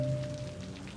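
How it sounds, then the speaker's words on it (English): Rain in the city-building game Cities Skylines hisses steadily as a soft, faint wash behind a low hum, with no voices. "this rain needs to calm down here"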